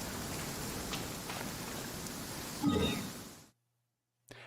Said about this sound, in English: Oh, some nice rain going on.